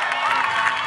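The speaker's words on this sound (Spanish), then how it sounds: "Un aplauso para Erika Vale, nuestra alcaldesa" A crowd at a municipal election victory celebration applauds and cheers for the mayor, a short dense burst of clapping and shouting at steady loudness.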